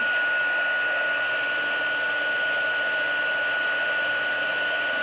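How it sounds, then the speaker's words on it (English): A craft heat tool blows hot air in a steady, loud, unbroken whoosh with a faint high whine throughout, close to the microphone and with no speech. "And then I'm going to take my heat tool again."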